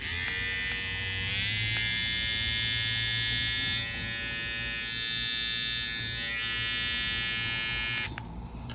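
A Babyliss Pro Tomb45 hair trimmer switches up from low to high speed and keeps buzzing loudly and steadily up close, shutting off near the end.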